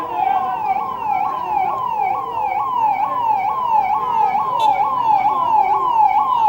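A rapid wailing ambulance siren cycles up and down repeatedly and loudly, close by, at a crowded public meeting, sounding alone without speech for several seconds.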